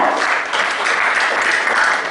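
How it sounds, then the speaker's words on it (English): An audience at a GST technical session applauds to welcome a speaker, a dense, steady round of clapping from a hall full of people. "Ladies and gentlemen, please welcome with a round of applause."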